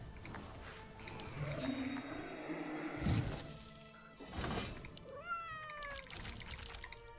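Cat unit sounds from the tower defense video game Legion TD 2, with synthetic meows and mewing cries, a sharp shattering crash midway, and faint game effects around them, all fairly quiet.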